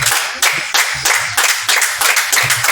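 A church congregation claps in a fast, steady rhythm of loud, dense hand claps that fill the whole stretch, sounding close and energetic.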